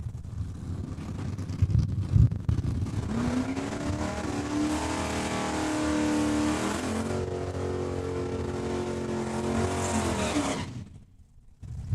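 A Ford Mustang drag car launching down the strip at Saskatchewan International Raceway, its engine roaring loud and rising in pitch through the gears before cutting off abruptly near the end.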